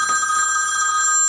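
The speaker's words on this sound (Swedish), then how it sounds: "Och denna telefonen har stått här ibland dagen och ringt" Telephone bell ringing loudly and continuously nearby, a bright sustained ring with no voices over it.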